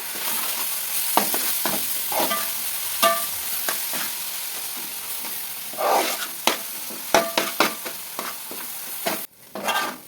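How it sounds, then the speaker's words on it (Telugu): Fish pulusu curry being stirred in a pan, with a ladle scraping and knocking in irregular bursts over a constant simmering sizzle, close-up with no talking. "కలుపుతున్నాను."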